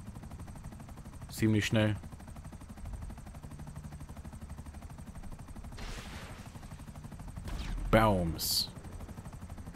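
Gunfire in GTA V Online near helicopters, a few short bursts of shots heard alongside a constant engine drone while German-speaking players talk.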